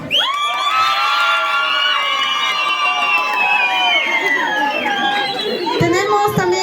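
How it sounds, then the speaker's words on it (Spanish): A crowd at a community candidate contest cheers and shouts loudly and without pause, with children's and women's high-pitched voices held over a long stretch and a few sharp claps near the end. "Fuerte el aplauso, barras."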